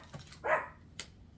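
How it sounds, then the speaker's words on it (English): A dog barks once indoors, a single short and fairly faint bark in an otherwise quiet room, followed by a sharp click. "He's not even barking at anything. He's barking at the sofa."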